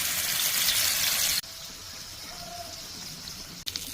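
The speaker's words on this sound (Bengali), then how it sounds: "এখন মাছগুলোকে ভেজে নিব।" Taki fish frying in hot oil, a loud, steady broadband sizzle that cuts off sharply partway through, leaving quieter background hiss with a brief clatter near the end.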